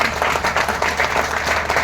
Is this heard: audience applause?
yes